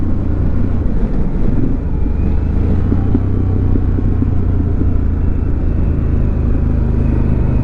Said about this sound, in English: So it is an aftermarket exhaust on this bike, so it sounds a little bit throatier than the stock exhaust.